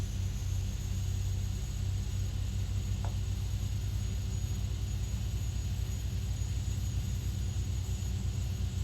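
A King Air 200 turboprop engine runs up, heard from inside as a steady, loud, droning rumble with a constant high whine, unchanging for the whole stretch.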